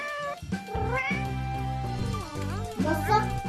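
A cat meows repeatedly in drawn-out, rising and falling cries, close and clear, with a voice mixed in among them.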